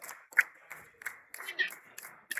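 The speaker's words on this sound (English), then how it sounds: "Let us continue clapping for them." An audience claps for arriving guests in a thin, irregular patter of distinct claps, with speech faintly underneath.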